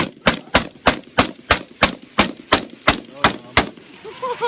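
Rapid firearm shots during gun training, about a dozen sharp loud cracks in a quick steady rhythm, close up, with a faint voice at the very end.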